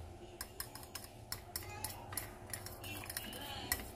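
A utensil clinks and scrapes against a bowl while mixing silver fish (tugnos) omelet ingredients, giving a steady run of light, close taps and clicks.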